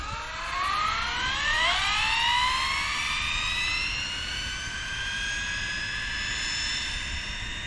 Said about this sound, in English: Let's take it down here and get turned around, make our first pass, guys. New Arrma Limitless ready to run.